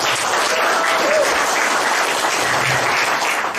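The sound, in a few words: seminar audience applause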